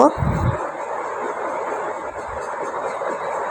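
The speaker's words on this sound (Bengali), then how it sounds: "এখন এই সবগুলো মশলা আমি কষিয়ে নিব।" Spices, including salt and garam masala, sizzle and crackle in hot oil for a quail roast with a steady hiss, after a brief low thump and voice at the start.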